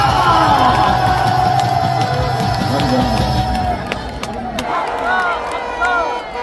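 A large outdoor rally crowd opposing a presidential impeachment sends up loud cheers and shouts for a pastor, a roaring mass of voices with whoops and yells, slightly easing midway, amplified talk mixed in.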